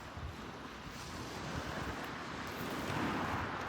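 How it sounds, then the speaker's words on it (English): Sea waves wash onto a stony beach at Seaton on the Jurassic Coast in Devon, a broad continuous roar mixed with wind buffeting the microphone, swelling slightly toward the end. "There's the sea."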